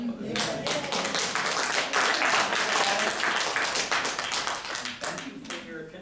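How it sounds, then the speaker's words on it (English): An audience applauds after a readers theater performance, a dense, steady wash of clapping from many hands that holds for several seconds and fades slightly at the end, with some voices mixed in. "applause."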